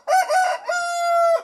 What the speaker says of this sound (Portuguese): Vai começar os galos cantando.